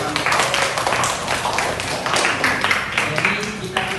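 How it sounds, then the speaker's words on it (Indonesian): A classroom group claps together during a microteaching practice lesson, giving dense, sustained applause with voices mixed into the clatter. "Beri tepuk tangan bersama."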